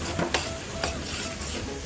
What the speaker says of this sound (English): we'll fry all the ingredients thoroughly, making sure to cook them until the acidity is completely eliminated from the tomato by frying it in the